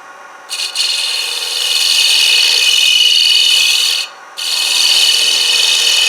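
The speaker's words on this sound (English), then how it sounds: "I'm real close to my line, so I'll shear scrape." A turning tool shear-scrapes a wooden heart-shaped bowl spinning on a lathe, making a steady, loud, close rasping hiss that runs continuously, then breaks off briefly before resuming.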